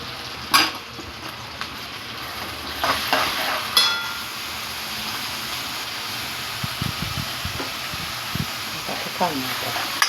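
Chopped onion going into hot oil with crackling cumin seeds, frying with a steady close sizzle, broken by a few sharp stirring scrapes and spoon knocks, with a voice talking over parts of it.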